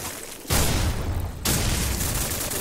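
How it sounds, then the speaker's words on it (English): A mass firefight in Call of Duty 4 roars as loud, continuous volleys of gunfire and booms, swelling in two dense waves without any talking. "A mass firefight going up there."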